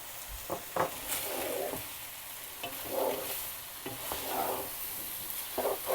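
Chicken keema with green chillies fries in a pan as filling for spring rolls, making a quiet steady sizzle with a spoon scraping and stirring through it every second or so, close by and with no voices.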